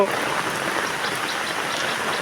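Steady rain pours down outdoors on a rainy day, a dense, even hiss of falling drops that holds at the same level throughout, with no voices heard in it.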